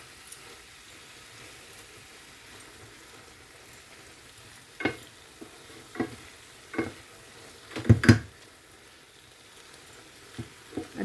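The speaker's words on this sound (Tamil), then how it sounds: "ஒரு கிளறிட்டு மூடி விட போகிறேன்." Spätzle and vegetables are stirred in a pan, heard as sparse spoon scrapes and clatters, several knocks bunched together, over a faint low simmer, close-up and otherwise quiet, with no voices.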